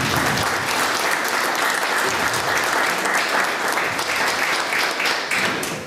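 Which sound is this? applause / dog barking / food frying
applause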